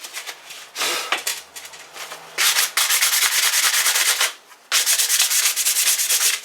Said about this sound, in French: pas besoin de poncer beaucoup, c'est juste pour rayer le vernis